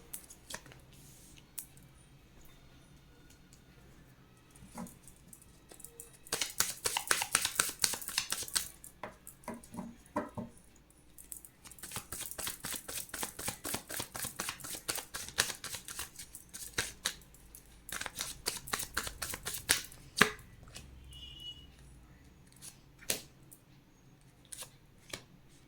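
Tarot cards being shuffled in dense, rapid riffling bursts, with two long stretches of crisp fluttering card noise and scattered single snaps between them, close and fairly quiet.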